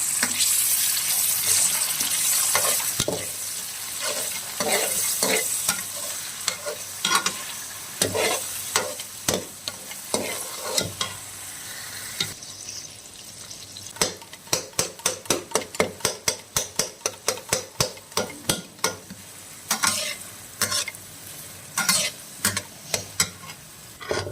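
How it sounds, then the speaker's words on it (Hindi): Tomatoes frying in a pan for an aloo anda dish, with a steady sizzle under repeated scraping stirs that speed up into a quick run of spoon strokes against the pan, close and without talk. "ये टमाटर अच्छी तरह ये भुन गए"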